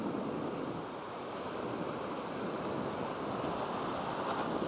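Ocean waves washing in on the shore during shoreline fishing for rudderfish, a continuous faint surf roar mixed with wind noise and no distinct breaks.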